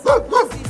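A dog in a Metsamor neighbourhood gives two loud, close barks in quick succession, followed by a short, softer yelp.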